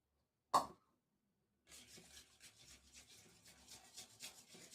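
Spoon scraping and stirring instant dhokla premix batter with a pinch of turmeric in a bowl, a sharp clink at the start, then a steady close rubbing, rasping swirl.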